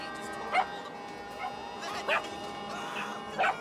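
A schnauzer in a video game gives several short yips and barks, spaced about a second apart, over a steady game background with no talking.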